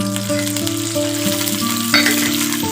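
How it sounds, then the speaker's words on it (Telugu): Cumin seeds sizzle in about two spoons of hot oil as a cucumber chutney is started, a steady close frying hiss throughout with a brighter crackling burst near the end and no talking. "జీలకర్ర వేస్తున్నాను"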